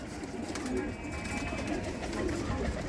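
Domestic pigeons with tufted heads, homing birds kept at home, coo softly in short, low, repeated calls close by, under a voice.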